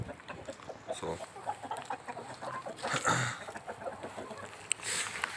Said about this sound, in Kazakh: Әтіш тауықтарын шақырып отыр.